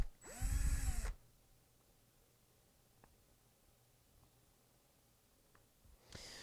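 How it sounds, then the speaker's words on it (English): A power drill drives screw holes into a wooden anvil stand in two bursts, a loud whining spin at the start and a brief one at the end, separated by a quiet workshop pause with faint clicks. "now I drill 1, 2, 3, 4, 5, 6, 7, 8, 9 more holes"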